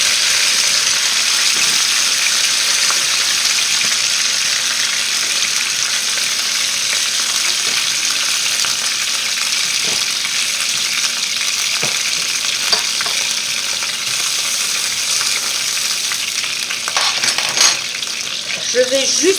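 Chicken pieces sizzle and fry steadily in a pan for a curry with coconut, with occasional scraping stirs and light clinks of a utensil, a dense continuous crackle close by.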